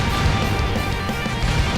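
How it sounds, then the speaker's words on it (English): Explosions rumble and crash without a break through the Broforce side-scrolling action game, a dense, loud wash of blasts and combat noise in the background, with no one talking. "Just more explosions in the background."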